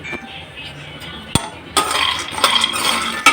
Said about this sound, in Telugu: పల్లీలు కూడా వేయించుకోవాలి చూడండి